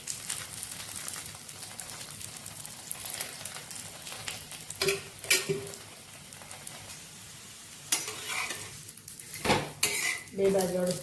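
Aloo paratha cooking in a pan, being flipped: a soft steady sizzle with clinks and scrapes of a utensil against the pan, fairly quiet and close, with a brief voice in the background.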